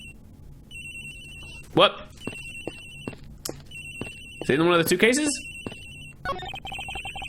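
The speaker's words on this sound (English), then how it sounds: "It sounds like the phone is up in the flight attendant's room." A telephone in the Ace Attorney Investigations video game rings repeatedly in regular trilling bursts under game music and effects, while a man asks a short question over it.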